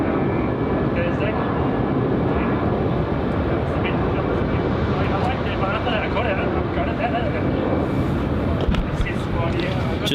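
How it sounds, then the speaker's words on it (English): A Qantas airliner takes off from Melbourne for Perth in heavy wet weather, its broad engine roar sustained and fairly close over steady rain noise, with people talking over it. "that was Qantas flight 773 off to Perth"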